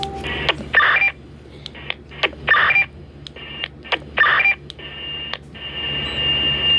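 DTMF tone bursts and short beeps from a talking radio repeater, several clusters of bright tones separated by brief pips over a steady low hum, ending in a sustained tone.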